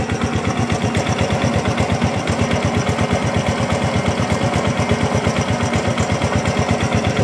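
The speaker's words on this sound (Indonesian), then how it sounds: "Nah ini untuk suara mesinnya ya" Underbone motorcycle engine idling steadily up close, a fast, even putter with a rapid regular pulse that holds constant throughout, with no voices.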